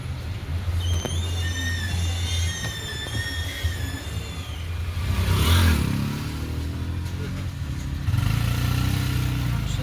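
Car engine in first gear as the clutch is let out, a steady low idle drone that surges and strains mid-way, then settles into a rougher, heavier hum; faint high whines run above it early on.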